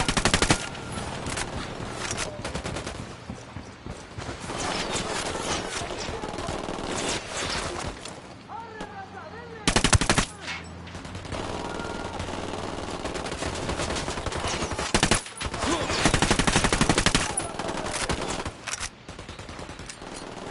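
Sustained bursts of automatic gunfire rattle through a Ghost Recon Wildlands firefight, dense and loud with sharper volleys spiking near the middle and end, no talk over it.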